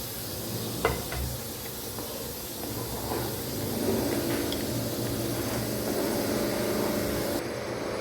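A pot of potato and green gram masala curry bubbles and hisses on the stove, a soft steady simmer with faint pops and light clinks, fairly quiet.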